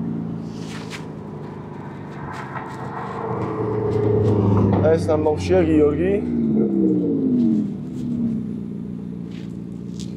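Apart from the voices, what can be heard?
car engine sound while driving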